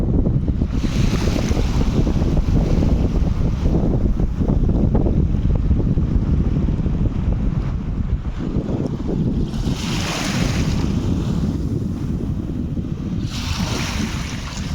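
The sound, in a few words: sea waves driven by strong wind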